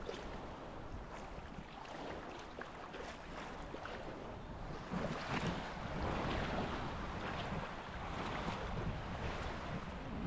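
Steady surf rolls onto long, sandy Pantachou Beach at Ayia Napa, Cyprus, with stones in the water, a continuous wash of breaking waves mixed with wind buffeting the microphone, growing slightly louder midway.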